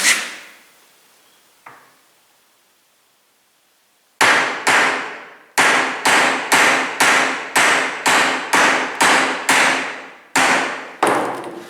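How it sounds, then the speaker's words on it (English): Sharp metallic hammer blows drive an annealed nut onto the end of a steel cable for a snare restraint. A few scattered strikes come first, then a quick, steady run of about a dozen loud ringing hits, each decaying briefly. "Okay, so I got that hammered on."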